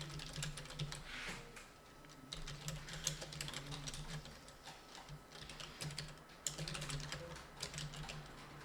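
Rapid, uneven clatter of keys being typed on a computer keyboard while entering text, a steady run of light clicks at close range with no talking.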